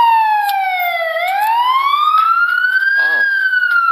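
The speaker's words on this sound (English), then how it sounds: "turn on emergency lights and activate the siren for us" A fire engine siren, loud and close, wails in slow rising and falling sweeps, steady and continuous, with faint background noise.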